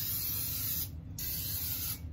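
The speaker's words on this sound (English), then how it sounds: "So spray your pan with some Pam" Pam cooking spray hisses steadily as it coats a baking pan for a butter pecan cheesecake, two close continuous bursts with a brief pause between.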